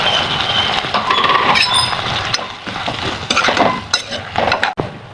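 Prawns are tipped into a pan of sautéed tomato and drumstick, with metallic clinks and scraping of a spoon against the pan and a busy sizzle throughout.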